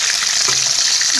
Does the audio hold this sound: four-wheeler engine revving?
no